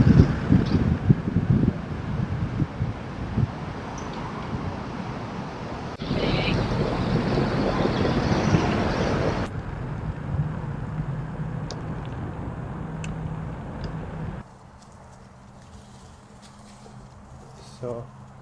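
A Backfire Ranger X1 electric skateboard riding off-road with a flat tire, giving rough rumbling rolling noise mixed with wind buffeting that shifts in character across several segments and fades quieter near the end.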